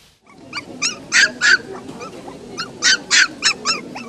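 A puppy at an animal adoption festival gives a series of high, whiny yelps and whimpers in two bursts of repeated cries, close and clear over a soft background murmur.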